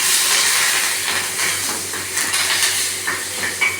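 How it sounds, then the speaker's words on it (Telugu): Curry leaves hit hot tempering oil with a loud hissing sizzle that gradually settles into softer crackle and pops, close, with no talk. "కరివేపాకు వేస్తాను కొంచెం ఇందులోని."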